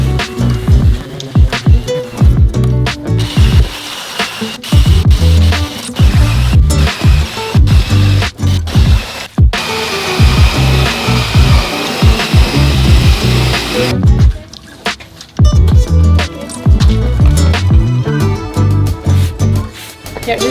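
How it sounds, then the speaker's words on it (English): A loud power sander grinds steadily across the wood of a DIY coffee table build, close and continuous with brief pauses and rhythmic rasping, a bright whine running through the middle stretch. "So I'm going to kind of sand down and just get some of those marks before I continue with the wire brush."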